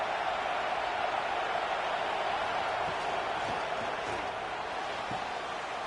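Stadium crowd roar in College Football 26 during Nevada Wolf Pack at Penn State Nittany Lions, a steady loud wash of cheering and noise with a few faint thumps underneath.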